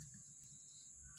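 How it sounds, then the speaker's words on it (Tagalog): A steady, high-pitched chorus of crickets in a quiet, calm rural spot near houses and hills, droning continuously and faintly without pause. "tanging mga kuliglig lang maririnig mo"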